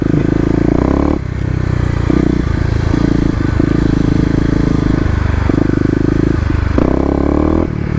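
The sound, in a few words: Kawasaki KLX250 motorcycle doing burnouts in a wet parking lot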